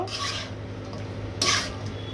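Taro greens frying in a wok give a soft sizzle under rasping spatula scrapes, with two louder stirring strokes standing out.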